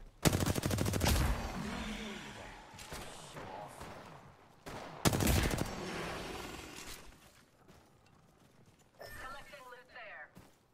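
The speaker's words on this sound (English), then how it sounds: "He's shooting an enemy." Video game gunfire: two loud rapid automatic bursts close by, with rumbling ambience between them and a faint rattling sound near the end.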